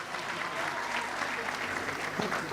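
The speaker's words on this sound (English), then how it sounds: "Let's clap for her, please." A graduation ceremony crowd claps in steady, dense applause for the top graduating student, a brief burst of even hand-clapping with faint voices underneath.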